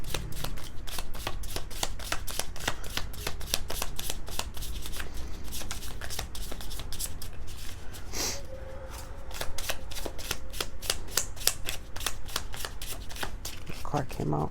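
A tarot card deck is shuffled close up in quick, rhythmic riffling bursts that continue steadily, with a brief break partway through before the shuffling resumes.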